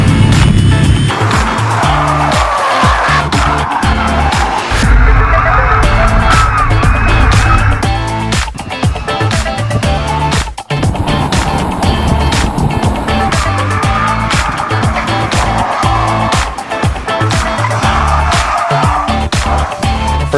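A converted electric car runs at speed on a race track, with a loud continuous road and tire roar, rising whine and wind noise, and sharp bumps and rattles throughout.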